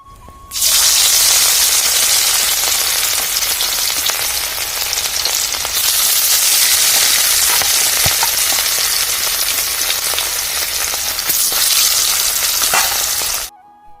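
Fish rubbed with salt and turmeric frying in hot oil, a loud, dense, continuous sizzle and crackle close up that swells and eases in waves for over ten seconds, with no talking.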